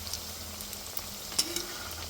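Crispy coriander and poha vadis shallow-fry in a pan after being flipped, making a soft, even sizzle with a couple of brief crackles and no talking.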